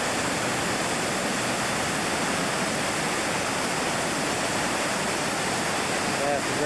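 The White Salmon River rushes past as a constant broadband roar of flowing whitewater, loud and close, filling the whole clip with no pauses.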